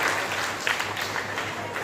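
Loud applause fills a school admission festival, a dense, continuous clapping from a large crowd that lasts the whole moment, with no talking over it.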